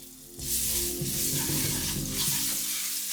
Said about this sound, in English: Next, drop in your garlic,